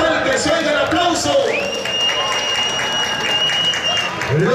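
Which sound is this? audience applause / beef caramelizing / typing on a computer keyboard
audience applause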